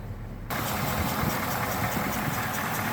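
A 1969 Ford Bronco engine starts up and settles into a steady, loud cold idle with a faint rhythmic lifter ticking running under the rough churn.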